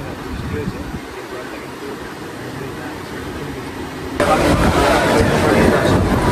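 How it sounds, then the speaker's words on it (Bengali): A train rolling into Purulia Junction station in rain, a low continuous rumble of wheels and carriages that swells louder partway through, with murmuring voices in the background. "বন্ধুরা, পুরুলিয়া জংশনে কিন্তু ট্রেন ঢুকে গেল"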